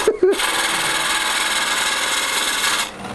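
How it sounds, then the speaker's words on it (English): A heavy negative rake scraper works the inside of a calabash bowl, giving a steady, close, rasping scrape that runs almost unbroken after a couple of short knocks at the start and then stops abruptly near the end. "So I'm using a D-Way negative rake scraper here, really heavy one"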